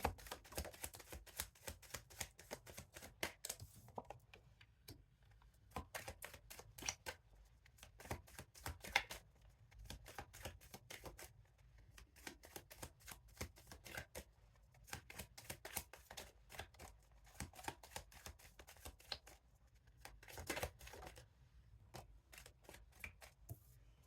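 Tarot cards being shuffled in bursts of rapid, crisp riffling and flicking, separated by short pauses, close and fairly quiet with no talking.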